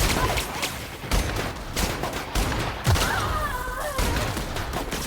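Gunfire in the video game Outer Worlds, a busy run of overlapping shots and thuds over a noisy game soundscape, fairly close and steady, with a faint voice in the mix.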